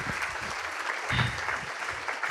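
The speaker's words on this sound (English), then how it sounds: "Big round of applause for our panel" An audience applauds a panel at the Groundswell 2024 agricultural festival, with a continuous patter of many hands, moderately loud and filling the room, and faint murmurs underneath.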